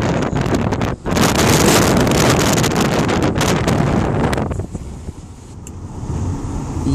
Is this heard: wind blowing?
yes